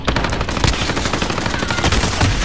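AUG rifle in Call of Duty: Modern Warfare fires a loud, continuous stream of rapid shots with a steady rhythm, with no talk over it.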